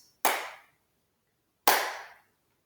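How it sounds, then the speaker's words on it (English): Two sharp claps, spaced more than a second apart, each with a short ringing tail in an otherwise quiet room. "If it doesn't hurt, clap your palms together in the front"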